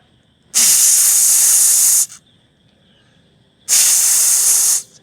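A voice imitates gas hissing out of a gas cylinder pipe: two loud, sustained breathy hisses, each about one and a half seconds long, separated by a short pause.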